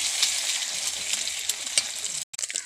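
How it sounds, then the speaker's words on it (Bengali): An egg fries in hot oil in a wok with a close, continuous sizzle and scattered crackles and pops, cutting out briefly near the end before the spitting resumes; no one speaks. "কড়াতে তেল দিয়েছি, এরপর একটা ডিম ভেজে নেব।"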